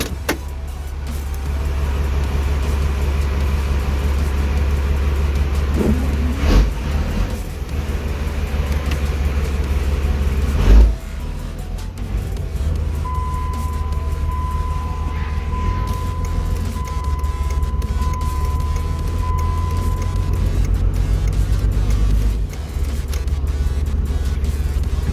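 Cummins 12 valve diesel engine running in a third-generation truck with a P-pump, turbo vanes unhooked, giving a steady low rumbling idle throughout with a couple of brief louder bursts.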